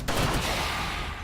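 Grape shot gunfire in Darkest Dungeon: one sharp, loud scattered blast that fades into a decaying rumble over about a second.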